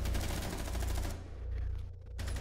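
Rapid gunfire from an online video game rattles on continuously and loud, with dense bursts of shots that stop abruptly near the end.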